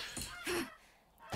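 A goose honks in the 7 Days to Die video game, played with a joke mod on Alpha 20.6; two short honking calls come close together, then a pause and a louder burst at the end.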